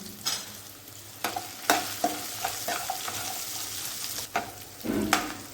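Hot oil sizzles steadily as onions and chillies fry while a utensil scrapes and stirs in quick, uneven bursts, close by with no voices.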